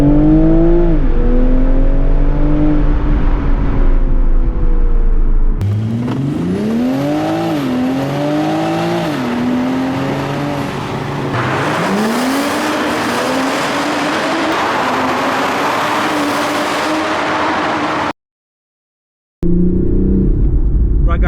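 A 2022 UK-spec Toyota GR Supra MKV (A90) accelerates hard through repeated pulls, its engine note rising and falling through gear changes, loud and close with wind roar and a brief cutout.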